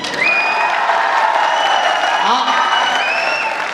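Audience clapping at a Hindi patriotic poetry recital by a poet: a continuous wash of applause and crowd noise with a voice speaking over it.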